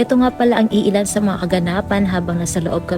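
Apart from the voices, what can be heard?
None of the usual background noises is heard.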